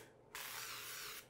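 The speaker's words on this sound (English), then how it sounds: "We're gonna spray this with coconut oil spray." Coconut oil cooking spray hisses into a casserole dish for keto cornbread, a single steady burst of about a second, close and fairly loud, with no talking.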